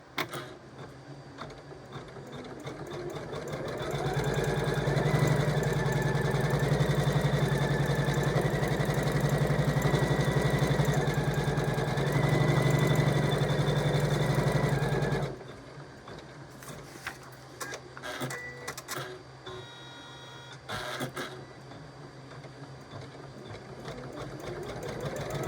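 An embroidery sewing machine stitches an in-the-hoop appliqué pattern for a table runner, humming and buzzing steadily and close for about ten seconds, then stopping, leaving faint handling noises.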